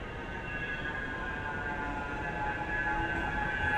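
Tram approaching along Balloon Street in Manchester city centre, a steady rumbling hum with a faint high whine that grows slowly louder, heard alone without talk.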